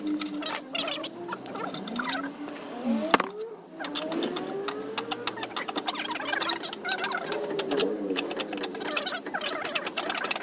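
A car jack being wound down to lower a car after a flat tire change, giving a rhythmic, squeaky ratcheting crank that repeats steadily, with people talking over it.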